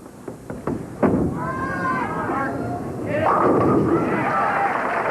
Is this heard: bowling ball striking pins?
yes